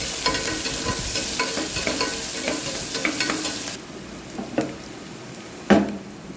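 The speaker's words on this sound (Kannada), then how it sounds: "ಹಸಿಮೆಣಸಿನ್ಕಾಯಿ ಹಾಕಿ ಫ್ರೈ ಮಾಡಿ, ಸಣ್ಣಗೆ ಹೆಚ್ಚಿರೋ ಈರುಳ್ಳಿ ಅದನ್ನು ಚೆನ್ನಾಗಿ ಫ್ರೈ ಮಾಡಿಕೊಂಡು" Onions and green chillies sizzle in oil in a pan, a steady crackling fry broken by scraping stirs, which quieten partway through before a sharp utensil clack near the end.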